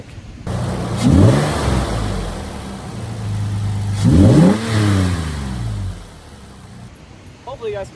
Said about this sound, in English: Show you all this intake.